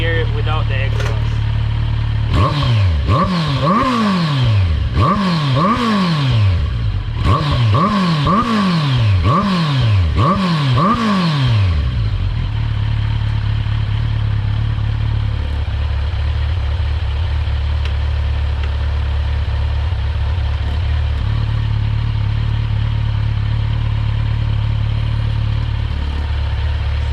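A Kawasaki Z900 motorcycle engine running with its exhaust removed, revving sharply in two bursts of rapid rises and falls before dropping to a loud, steady, rough idle that continues to the end.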